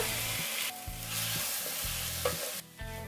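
Onions and tomatoes sizzle and crackle in a hot pan, interrupted by repeated scraping and stirring strokes of a spoon against the metal.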